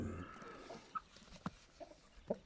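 Quiet, scattered clucks from chickens, a few short calls spaced apart against a faint background.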